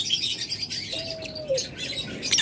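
Opaline lovebirds in a bird shop give a few short chirps and one thin drawn-out whistle-like call over a busy background hum, with no talk.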